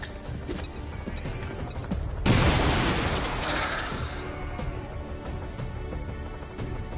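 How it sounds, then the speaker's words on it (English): A grenade blows up in a video game amid gunfire, a sudden loud, broadband boom with a rumbling tail that fades over a couple of seconds against continuous battle noise. "Grenade!"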